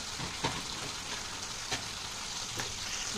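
Spices with garlic and onion sautéing in a pan for Bengali prawn malai curry, a steady close sizzle and fry with a few soft stirring scrapes and no talking.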